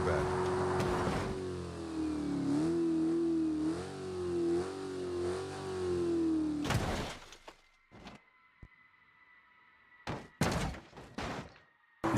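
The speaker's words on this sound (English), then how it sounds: "Chevy Corvette." Chevrolet Corvette engine revving, a sustained loud drone rising and falling in pitch for several seconds before cutting off, followed by a few sharp clunks and bursts.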